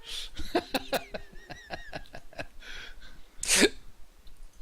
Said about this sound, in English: Got the hiccups now.